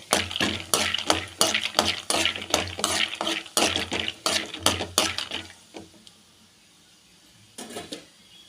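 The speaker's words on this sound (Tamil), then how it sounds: "இப்போ எண்ணெய் காய்ஞ்சதும் வேர்க்கடலை கொஞ்சம் எடுத்துக்கோங்க இதில் வறுத்துக்கோங்க" Peanuts roasting in hot oil for spicy masala puffed rice, stirred with a utensil that scrapes and clinks against the pan in a brisk rhythm over a soft sizzle, then a quiet pause before one more short scrape.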